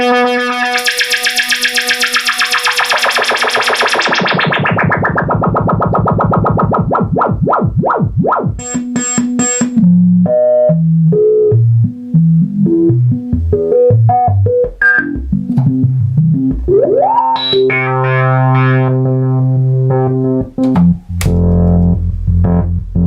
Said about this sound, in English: We can also modulate the filter.